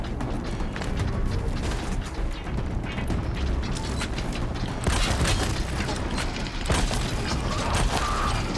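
Machine creatures attacking in Horizon Zero Dawn, a loud dense battle roar of grinding metallic mechanisms, creaks and ratcheting clanks with heavy impacts, continuous and close throughout.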